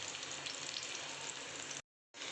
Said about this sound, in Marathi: दोन्ही बाजूने आपण त्याला चांगलं शालो फ्राय केलेलं आहे